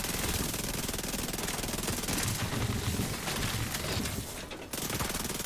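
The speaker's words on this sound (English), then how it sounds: "I'm getting shot by NPCs as well." Sustained automatic gunfire from NPC enemies in The Division 2, dense rapid bursts that keep going almost without a break, loud and close, with no talking.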